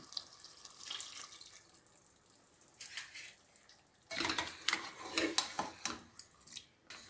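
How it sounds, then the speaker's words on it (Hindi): Less than half a glass of water poured into a pan of potato and carrot sabzi, first a faint trickle, then louder splashing and sputtering bursts toward the end, with no talking. "ये आधे से कम गिलास पानी का जाएगा, ये डालेंगे और इसे दम पे रखेंगे 5 मिनट के लिए।"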